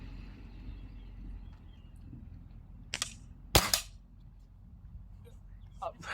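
A Diana 48 spring-powered air rifle with open iron sights fires once outdoors, a sharp close crack followed by a fainter click, over a low steady background hum with a smaller snap near the end.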